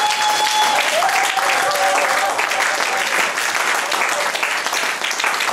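Church congregation at a prayer vigil applauding in a dense, steady wash of clapping that fills the space, with cheering voices and a short sustained tone under the applause.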